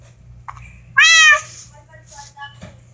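A kitten gives one loud, drawn-out meow at close range indoors, with a softer chirp before it and faint trailing mews over a low background hum.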